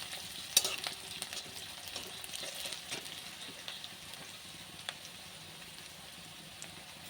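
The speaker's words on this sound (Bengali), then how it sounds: "কচুরি মেথিটাও দিয়ে দিচ্ছি তেলে" Kasuri methi and whole garam masala frying in hot oil while being stirred, a soft continuous sizzle with light scraping and clinks of a spoon against the pan, fairly quiet and close.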